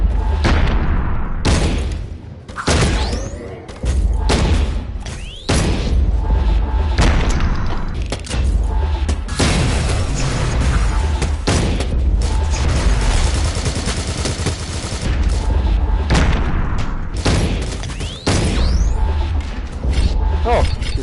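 Loud, repeated gunshots from a gun in the VR shooter game Sairento, booming blasts at irregular intervals over dense, rumbling game noise.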